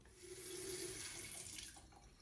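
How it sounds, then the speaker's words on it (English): Water running steadily from a Nasoni faucet into a sink for face washing, a soft continuous splash with no voices. "I'm getting ready to wash my face with my Nasoni faucet"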